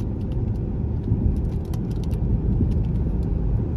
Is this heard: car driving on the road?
yes